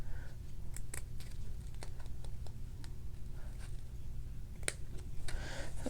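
A blade makes small, quick clicks and snips while cutting slices off a tiny plastic Lego-style clone figure piece, faint and close against a low steady hum.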